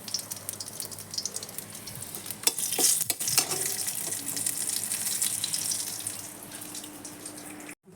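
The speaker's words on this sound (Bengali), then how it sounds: "তেল দিয়ে দিলাম দিয়ে ফোড়নে দেবো তেজপাতা আর একটু দারচিনি" Bay leaf and a little cinnamon dropped into hot oil for tempering, giving a steady close sizzle and frying crackle with stirring clatter, continuous through the clip and briefly cutting out near the end.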